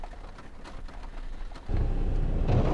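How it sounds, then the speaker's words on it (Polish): Steady rain falling outdoors on a morning in Marrakesh, a soft broadband patter that thickens into a louder, denser downpour partway through, with no voices. "obudził nas deszcz"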